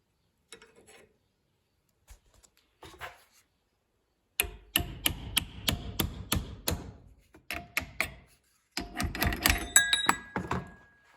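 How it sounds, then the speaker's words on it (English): Sharp metallic hammer strikes on a metal rod while making a fruit press, in quick bursts, a few light taps first, then two runs of rapid ringing blows, close and fairly loud. "I'm going to put a rod inside it and just hammer on it a little bit"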